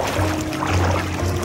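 Water splashing and trickling as people wade through a shallow river flowing toward the ocean on a Fuerteventura beach in the Canary Islands, a steady close wet sloshing with low rumble.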